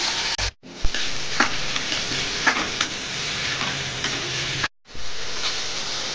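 Onions and soaked moong dal sizzle and fry in a pan, a continuous crackling hiss with a few stirring scrapes and two brief cuts in the sound.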